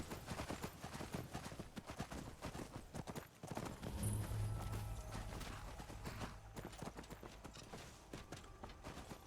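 Horse hooves clip-clop steadily in Skyrim as a following mount walks alongside, the rhythmic footfalls mixed with ambient game sounds and a brief whinny-like tone near the middle.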